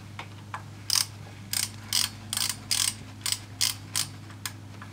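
A ratchet tightens the VANOS sprocket bolt on a BMW E9X 328i N52 engine, producing about nine close, crisp bursts of clicking in an uneven rhythm over a low steady hum, with no voices.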